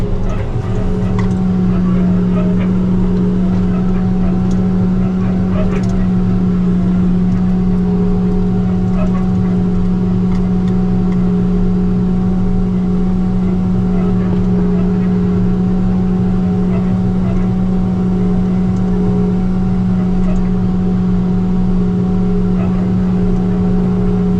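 A tractor pulling a crimper mower header through an alfalfa hay field drones loudly and steadily from start to finish, a constant close engine hum with machinery rattle underneath.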